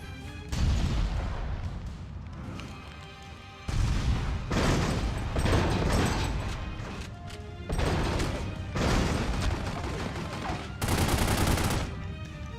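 Tommy gun fire in The Godfather video game: loud rapid automatic bursts of several seconds each, separated by brief pauses, with crashing impacts mixed in.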